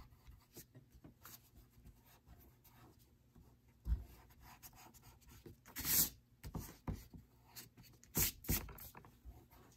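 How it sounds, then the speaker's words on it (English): An eraser rubs out old pencil lines on drawing paper in a pencil drawing of a Ninja Turtle, with irregular bursts of brisk, close scrubbing strokes and quieter pauses between them. "I'll erase my old lines."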